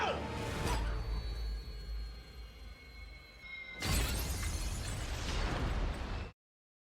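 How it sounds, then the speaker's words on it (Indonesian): Film sound effect of a small glass vial of antidote shattering: a sharp crash, a sustained noisy stretch, then a second loud burst of breaking glass that cuts off abruptly. "satu-satunya sampel penawar mereka pecah akibat ulah Whiskey"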